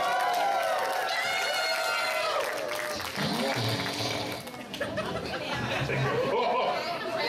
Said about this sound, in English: By your applause, we would like your votes.